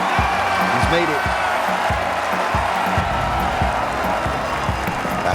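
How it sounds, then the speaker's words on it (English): Applause and cheering from a golf crowd run continuously as a thick, even roar, with individual claps punching through and a voice briefly heard within it. "they're cheering for everything"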